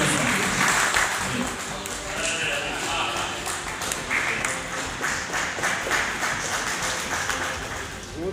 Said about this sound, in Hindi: जोरदार तालियों से आप